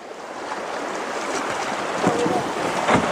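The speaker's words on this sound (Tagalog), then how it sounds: "Malakas ang current ng tubig." A strong river current rushes over large rocks through rapids in Laguna, making a steady, loud, dense roar of water that fills the whole clip without a break.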